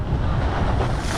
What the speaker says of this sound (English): Quite high tide today. I don't want to get wet.